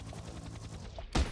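Gunfire in the kids' action game Heli Monsters, aimed at a robber: a rapid rattle of shots builds into one loud, sharp blast near the end, with no talking.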